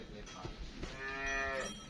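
A Jersey Friesian cross cow lets out a single close, drawn-out moo that swells and holds before trailing off, over faint farmyard background noise.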